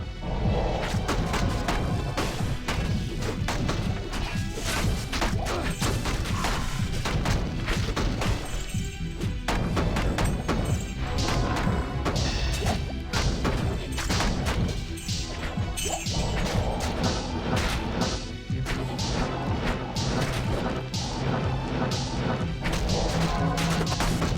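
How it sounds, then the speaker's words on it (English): Rapid, repeated snapping claw strikes connect with enemies in the action RPG Grim Dawn, a dense, continuous barrage of crashing, thwacking impacts over layered game effects. "I really like the snapping sound that you get when Chris Gaddy connects with the enemies"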